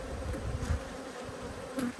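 Angry honeybees hum around an open hive during inspection, a close, steady buzzing drone with a bee passing near at moments.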